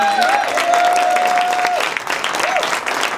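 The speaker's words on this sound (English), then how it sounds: "Give yourselves a round of applause" Audience applause at a progressive political summit, a steady wash of clapping from the crowd while a voice carries over it.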